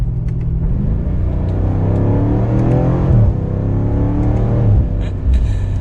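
A 2021 BMW M5 Competition engine revs and drops in pitch as the transmission downshifts, a steady rumbling drone with rising and falling engine tones, loud and close.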